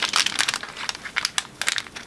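Scissors cutting through a planner page, a run of short crisp snips and crinkly paper rustles in close succession, nearby and fairly clear with no talking.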